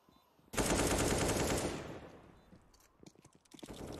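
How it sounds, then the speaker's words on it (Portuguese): Gunfire erupts during a Counter-Strike match on the Nuke map, a loud, dense burst of automatic shots lasting over a second, then scattered quieter shots follow. "os tiros vêm rolando para dentro do bombe"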